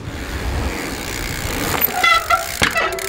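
Hard braking on a mountain bike pitched into a stoppie brings short, high brake squeals and scraping over steady outdoor rumble, with a few sharp squeaks close by and no talk.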